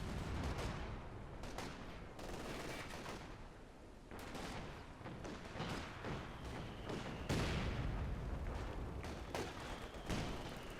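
Battle gunfire from the video game Company of Heroes 2 in a 4v4 match on the Port of Hamburg map: dense, continuous rifle and machine-gun fire mixed with dull booms and thuds, steady and moderately faint.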